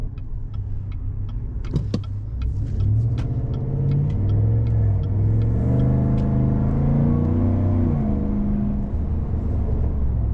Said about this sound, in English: you know you have an exhaust when you give it a little bit of throttle